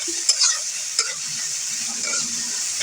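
Fish pieces seasoned with turmeric and salt fry together in oil, a steady close sizzle broken by a few sharp clinks of a spatula against the pan.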